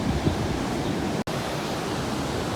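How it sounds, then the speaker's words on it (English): Ocean surf on the beach at St Augustine, Florida, forms a steady, dense wash of rushing noise with no distinct breaks, heard alone at a moderate level. "So now we're sitting up here, watching the waves."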